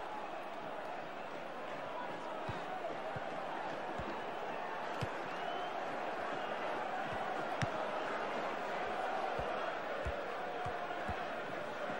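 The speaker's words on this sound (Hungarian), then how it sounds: "A saját hangomat is alig hallom, Ricsi, a tömeg tudja, milyen fontos lehet ez a helyzet." A dense, steady roar of a large stadium crowd in FIFA 15, during a Hungary vs Norway match in the second half, fills the whole stretch, with faint thuds and a commentator-like voice mixed in.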